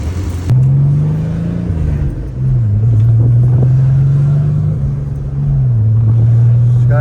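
A Nissan 280ZX with a turbocharged L28 engine being driven, a loud steady low drone that dips and shifts pitch a few times as speed changes.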